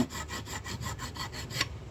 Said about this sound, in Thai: สูตรตะไบ ปรับหน้าผิวสร้างชิ้นงาน